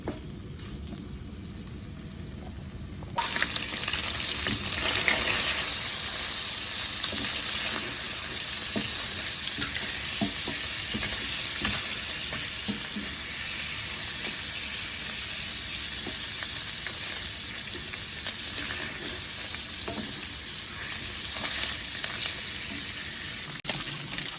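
Sausages brown in a frying pan with a loud, continuous sizzle that starts abruptly after a quieter moment and holds steady, close and without speech.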